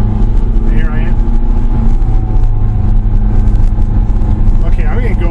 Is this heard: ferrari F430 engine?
yes